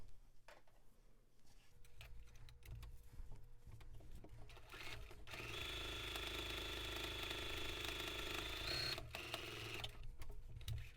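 Sewing machine stitching along the folded edge of a fabric pocket mask, a steady mechanical whir that starts midway after softer handling noises and runs several seconds before a brief pause.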